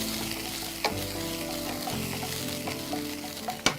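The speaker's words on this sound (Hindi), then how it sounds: "साथ में भून लीजिए।" Spicy paste fries in a pan with an even, close sizzle, broken by a few sharp clicks of a spoon against the pan, and nobody speaks.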